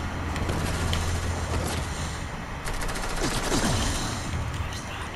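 Fortnite Chapter 2 Season 8 gunfire aimed at a cube, a dense, steady burst of rapid shots that carries loud through the whole stretch with a short break midway, plus some vehicle-like rumble.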